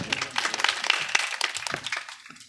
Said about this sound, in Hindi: तालियां बजाते रहे बंधु को।